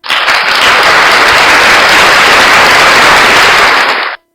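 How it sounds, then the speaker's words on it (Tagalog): A church congregation applauds during a Sunday sermon with loud, dense, steady clapping that holds for about four seconds and then cuts off abruptly. "kinala palakpak na"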